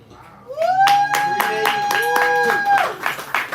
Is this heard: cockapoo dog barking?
no